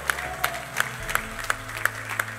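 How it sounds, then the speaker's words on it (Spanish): Church worshippers clap for the Lord in a steady rhythmic beat, sharp claps landing about three times a second over a low sustained musical drone. "Dale un aplauso al Señor."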